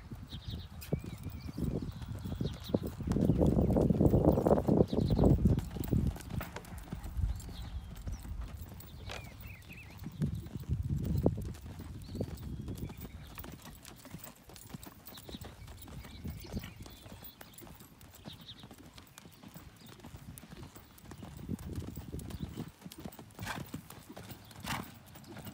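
Hoofbeats of a horse cantering in a Western Pleasure class at a horse show, a steady rolling clip-clop on arena ground, swelling louder as it passes near, with an occasional whinny and faint background voices.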